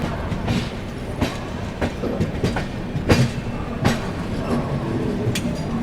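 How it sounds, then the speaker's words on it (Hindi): Wheels click and rumble under the Agra Fort–Ratlam Special Express, an Indian express train, in a dense, steady clatter with repeated rail-joint clacks, heard loudly at close range. "Agra fort Ratlam special express from Agra fort to Ratlam."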